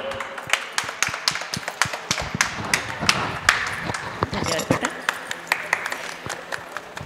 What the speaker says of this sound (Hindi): जोरदार तालियां मेरे लिए।